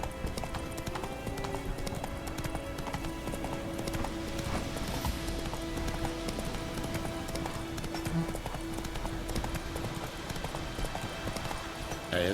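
Horse Roach galloping in The Witcher 3: Wild Hunt, a fast continuous drumming of hooves with game music underneath, loud and close throughout.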